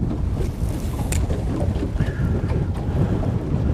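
Wind gusting against the microphone while fishing outdoors, a continuous loud low rumble and buffeting with no one talking.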